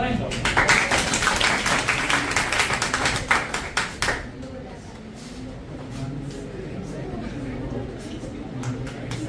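Audience clapping at an academy award ceremony honoring student selections, with dense applause for about four seconds that then thins out as the room settles into murmured chatter and voices.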